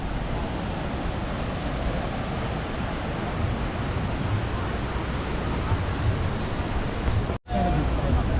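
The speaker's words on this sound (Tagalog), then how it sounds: "lakas ng agos oh" Strong river current rushing past a sandy bank, a loud, steady broadband roar of flowing water that runs unbroken and close, cutting out abruptly near the end before resuming.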